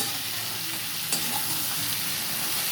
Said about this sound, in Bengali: মিডিয়ামে রাখবেন আস্তে আস্তে জল বেরিয়ে বেরিয়ে এটা ভাজাটা হবে